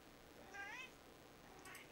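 Cats meow: one faint, drawn-out meow in the middle of the clip, followed by a short higher chirp near the end.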